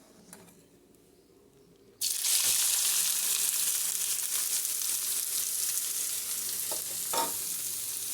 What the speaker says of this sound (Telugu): ఆయిల్ హీట్ అయిపోయిందండి. ఇప్పుడు మనం ఆనియన్స్ వేసుకుందాము.